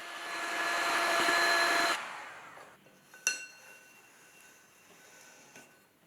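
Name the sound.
heat gun blasting a freshly thrown clay pot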